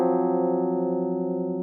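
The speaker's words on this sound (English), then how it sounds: "this creates disharmony, which sounds like this." A sustained, steady cluster of clashing tones holds evenly for under two seconds, producing a dissonant, slightly beating chord with no other sounds.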